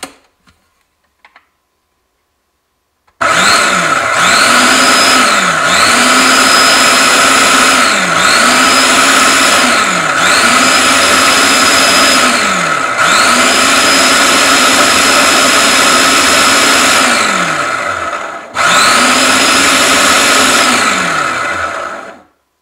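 A blender whirring through a batch of homemade powdered laundry detergent, loud and close, cycling in repeated pulses that spin up and wind down several times over about twenty seconds after a brief quiet start.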